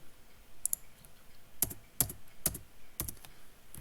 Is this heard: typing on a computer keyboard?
yes